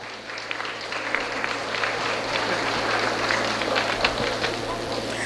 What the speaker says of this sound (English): Let us appreciate the young ones by giving them a big round of applause.